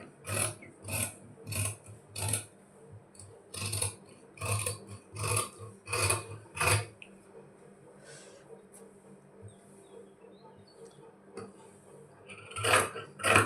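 Scissors cut blouse fabric with a series of crisp, rhythmic snips in close bursts, then a quieter pause with faint rustling before a few more snips at the end.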